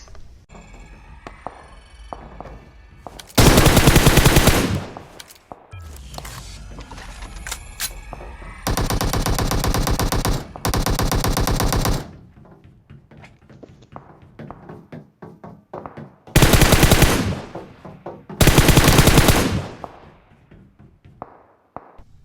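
Machine gun fire in a shooting video game, heard as several long, loud sustained bursts of rapid automatic shots separated by quieter stretches of game sounds and scattered clicks.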